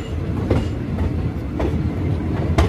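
The Siliguri intercity express rolls over changing tracks inside a hot, crowded carriage, giving a steady rumble broken by sharp clacks at the rail joints.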